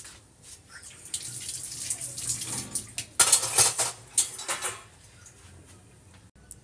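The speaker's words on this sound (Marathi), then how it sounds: "आता मी काय करणार आहे यातलं पाणी पूर्णपणे गाळून घेणार आहे" Water drains from boiled cauliflower in a home kitchen, with a running, splashing pour that swells in the middle and a few light clinks of a pot and utensils before it tapers off.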